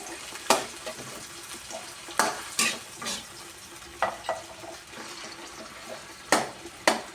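Sardines sautéing in a pan, with a steady background sizzle cut by repeated loud scraping and clattering strokes of a spoon, close and irregular, and no speech.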